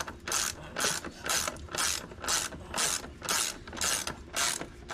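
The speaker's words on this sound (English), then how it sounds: "We're tightening this front wheel." A ratchet wrench tightens the front wheel on a Honda Helix scooter during brake work: quick bursts of ratcheting clicks repeat in a steady rhythm, about twice a second, close and clear with no talk.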